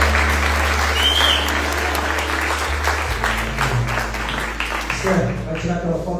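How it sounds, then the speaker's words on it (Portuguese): A church congregation applauds together, a dense steady wash of clapping that fills most of the stretch under a low sustained organ or keyboard drone, with voices mixed in before it thins near the end. "A igreja pode dar um aplauso ao Senhor Jesus"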